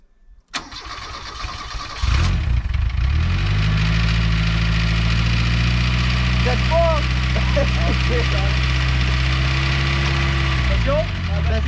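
A Renault R5 Alpine Turbo engine cranks briefly, catches and settles into a loud, steady idle close by, with a faint voice over it.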